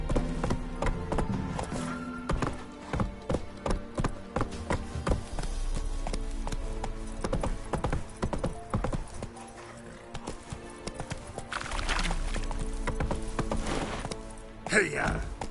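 Roach's hooves clip-clop in quick, regular beats on the ground in The Witcher 3, with game music and some talk over them and a short whinny near the end.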